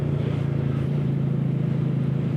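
A Royal Enfield Meteor 350 single-cylinder motorcycle thrums steadily while riding, a deep, close, continuous low-pitched engine beat with a fast even pulse and wind rush above it, no talking.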